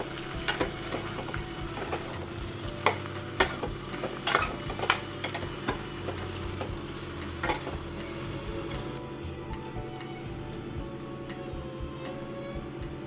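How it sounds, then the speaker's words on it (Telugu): Cut ridge gourd pieces are stirred in a pan while cooking for a curry made with milk. A spoon clinks and scrapes several times over a soft steady sizzle, and the stirring thins out into quiet simmering. "ఇప్పుడు దీంట్లో కట్ చేసుకున్న బీరకాయ ముక్కలను వేసుకొని నీట్గా కలిపెట్టుకోవాలి."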